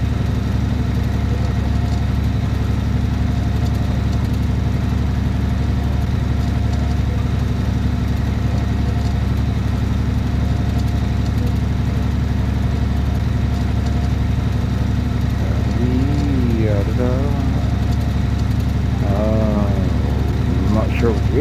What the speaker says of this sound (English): why it's my truck running high idle non-stop